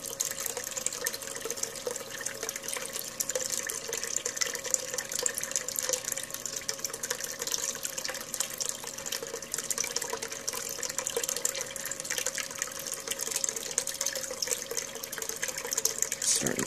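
Water washing paydirt through a Dirt Hogg sluice, a continuous close rush and splash of flowing water with little change over the whole stretch.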